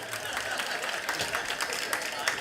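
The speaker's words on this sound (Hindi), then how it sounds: "पर इसमें तालियां पुरुष बजाते तो ज़्यादा अच्छा था।" An audience claps together during a religious question-and-answer gathering in TT Nagar, Bhopal, producing dense, steady applause that fills the whole stretch at an even level without clear breaks.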